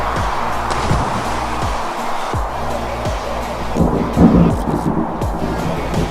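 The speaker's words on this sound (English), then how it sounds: "And lo, was the sound of thunder heard, even in the depths of the sea." Deep rumbling roll of thunder fills the clip, a steady low boom with a swell near the end, heavy and close.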